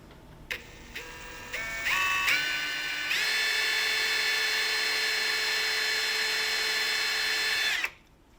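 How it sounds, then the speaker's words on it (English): A power drill pre-drilling shallow holes in a Stratocaster guitar kit headstock whines, stepping up in pitch as it speeds up, then holds a steady high whir for several seconds before stopping abruptly. "When we pre-drill these holes, we're going pretty shallow."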